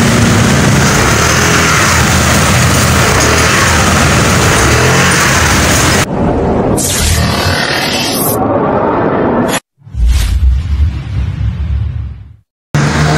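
A vehicle that had stalled on the road runs again after troubleshooting, its engine a loud, steady close drone for about six seconds before breaking into abrupt cuts and quieter fragments.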